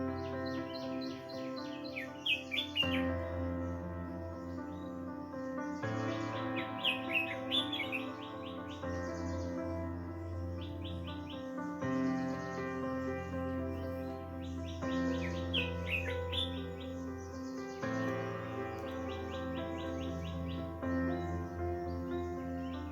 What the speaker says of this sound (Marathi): प्रवास सुरू असताना ऐकू येणारे पक्ष्यांचे किलबिल